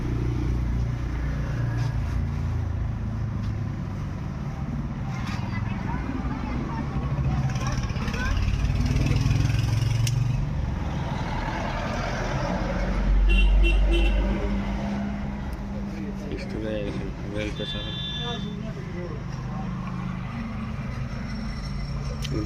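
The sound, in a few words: Bolero pickup engine running after being started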